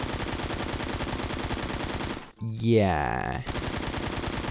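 Sustained rapid automatic gunfire from a gun in the video game Phantom Forces, loud and close, breaking off briefly for a spoken word before the same steady stream of shots resumes.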